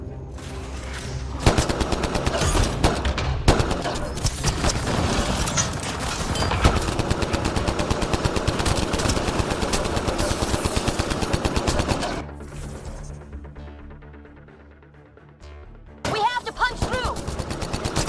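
Rapid gunfire in the sci-fi shooter Mass Effect: Andromeda, sustained automatic bursts layered with single shots, loud and close, easing briefly near the end before firing resumes, with game dialogue voices mixed in.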